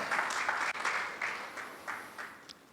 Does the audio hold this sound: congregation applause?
yes